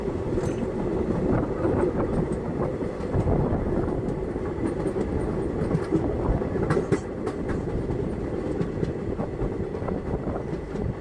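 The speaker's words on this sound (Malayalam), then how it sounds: "നമ്മുടെ ട്രെയിൻ ഇപ്പോൾ ഇടവ നടയറക്കായലിൻ്റെ സൈഡിലൂടെയാണ് ഇതപ്പം പോയിക്കൊണ്ട് നിൽക്കുന്നതൊക്കെ." A passenger train on the Punalur to Nagercoil line running alongside the Edava-Nadayara backwater, a steady rumbling roar with rhythmic clickety-clack of wheels on rail joints, heard from inside the carriage.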